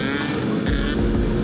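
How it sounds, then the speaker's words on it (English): A car engine revs harshly and loudly up close in a short, rough, growling burst with no talking. "I thought somebody's engine was blowing up or something"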